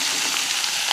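Chopped onion, capsicum and green chilli sizzle steadily in a hot pan as they are tempered, a close, continuous frying hiss for one second with no talking.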